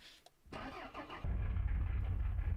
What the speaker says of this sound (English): Okay, engine's on.